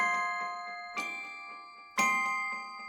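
Bright, dry synth chords from the Kontakt Playbox daytime preset with effects off, struck twice roughly a second apart, each ringing and slowly decaying, with lighter rhythmic plucks ticking between them.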